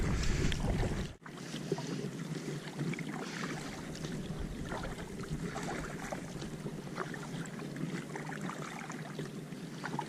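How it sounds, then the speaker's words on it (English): A Nucanoe Flint kayak is paddled across calm water on its first outing, with gentle splashes and the water's ongoing wash under light wind. "just a nice easy paddle gets this thing going just fine"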